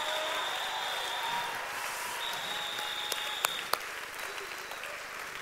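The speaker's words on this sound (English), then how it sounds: "Come on, give the Lord a hand clap." Worshippers at a church service keep up sustained applause for the Lord, a dense, even wash of many hands clapping, steady throughout, with a couple of sharper claps standing out near the end.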